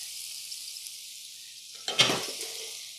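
Shrimp, crab and eggs fry in a pan with a steady hiss of sizzling, then a sharp louder burst of spitting as more food hits the hot oil.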